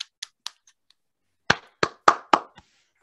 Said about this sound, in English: So we can give Eric a little round of applause for both the talk and over 50 years of work